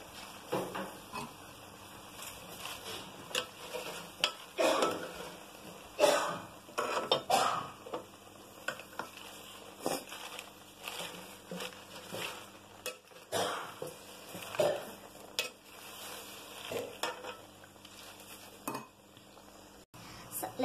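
Chicken offal curry with vegetables is stirred in a pot, with intermittent scraping and clinking of a utensil against metal, soft and fairly close, amid quiet kitchen background.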